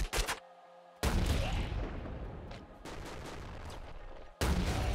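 The Super Buster gun fires in the roguelike shooter game Nuclear Throne, with loud, sharp bursts of synthetic gunfire and booming blasts in distinct volleys separated by short near-silent gaps.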